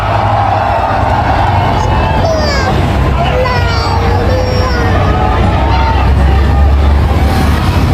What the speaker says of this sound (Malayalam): കയ്യടിയോടെ ആവേശത്തോടെ ആരവത്തോടെ.